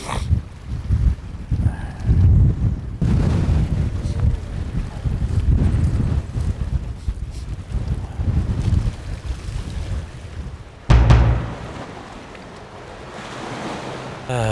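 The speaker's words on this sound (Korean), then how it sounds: "정면에서 이렇게 불어오는 바람이 되다 보니 낚시하기가 갈수록 바람은 더 심해지는 것 같습니다." A strong headwind blows on an angler at the water's edge, buffeting the microphone with heavy rumbling gusts over rolling surf, and later eases to a softer whoosh.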